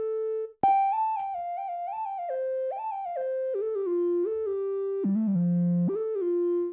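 A monophonic synth lead from the Surge XT preset U Computer plays a bright melodic line of gliding, sustained notes in a makossa solo, with a brief gap near the start, loud and alone with no talking.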